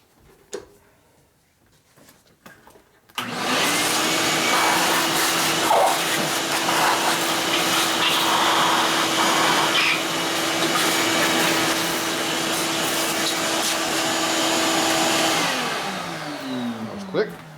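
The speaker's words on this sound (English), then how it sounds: "I gotta get the chips sucked off of here." A shop vacuum switching on and sucking metal chips off a 1958 Harley-Davidson 74 ci Panhead cylinder head during a top-end repair, a loud steady roar with a constant hum that winds down at the end; faint talk precedes it.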